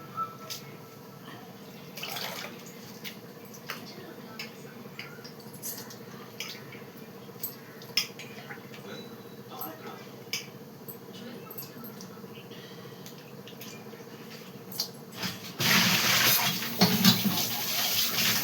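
Leafy greens being rinsed under running tap water to get the soil off, with steady splashing and dripping, small clinks and handling noises, then a louder surge of gushing water near the end.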